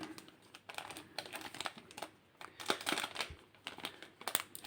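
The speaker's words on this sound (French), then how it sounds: "J'ai ouvert le paquet, mais mal" Crinkly plastic wrapper of a One Piece trading card booster pack being torn and handled up close, a run of quiet irregular crackles and sharp rips over about five seconds, no talking.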